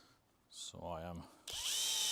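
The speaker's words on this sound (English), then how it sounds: "mostly using the drill to mix the epoxy" Electric drill mixing epoxy: a short whirring motor burst with pitch rising then settling, after a brief noise, followed by a bright hissing mix of spinning and churning, close and moderately loud.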